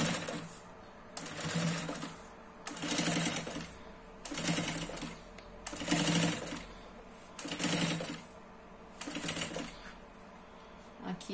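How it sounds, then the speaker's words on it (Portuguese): Domestic sewing machine running in repeated bursts of roughly a second each, stitching fabric for a baby changing pad with pockets, close and steady, with brief pauses between runs. "começo a costurar com meio pezinho de máquina"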